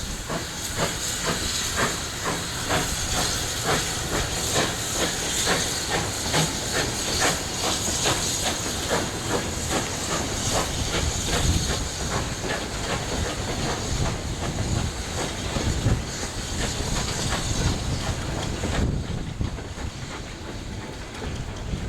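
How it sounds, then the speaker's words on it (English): Steam locomotive 9017 sets off with an engineers train on the Bluebell Railway, hissing loudly and steadily as its wheels click rhythmically over the rail joints, with the hiss easing slightly near the end. "9017 sets off with the 10:35 AM engineers train to Sheffield Park."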